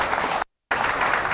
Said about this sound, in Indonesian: Mari kita beri tepuk tangan yang meriah bagi Tuhan Yesus